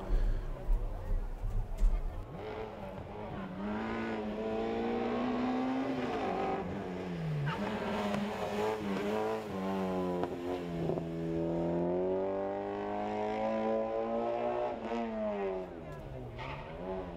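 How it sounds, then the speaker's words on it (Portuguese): Peugeot 106 rally car on a special stage in Lisbon, the engine revving hard and rising and falling in pitch as it races past near and loud, with a commentator talking over it. "Temos aqui outro Peugeot 106"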